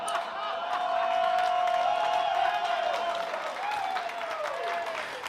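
A comedy club audience applauds and cheers after a joke about immigrants, a dense, fairly faint wash of clapping that swells, holds and tapers over several seconds, with a sustained tone running beneath it.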